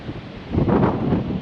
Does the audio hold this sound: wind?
yes